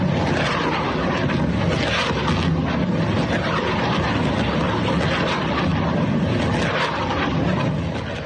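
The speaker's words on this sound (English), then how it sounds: "Every one of those swishes is a missile." Missiles and drones streak over Iran at night during an attack, a continuous loud roaring rush with repeated swishing surges that never lets up.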